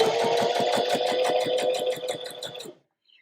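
A sewing machine runs forward through fabric after a few reverse stitches, its needle clattering in a fast, steady rhythm of even pulses for nearly three seconds before stopping abruptly.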